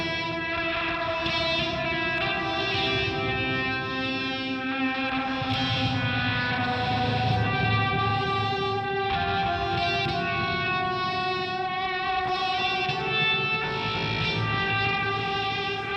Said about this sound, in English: I will say the distortion on this square wave fuzz